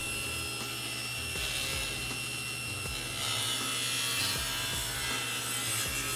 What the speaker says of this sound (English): Make the pass through the blade, being careful to use a push stick to keep your fingers safe.